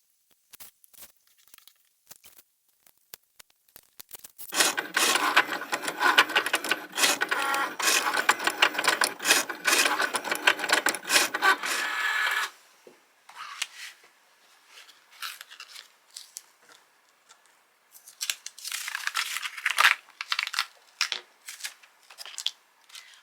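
A Cricut cutting machine slices poster board with a steady, fairly loud mechanical whirring and scraping for several seconds, then settles into quieter, intermittent carriage movements and short bursts.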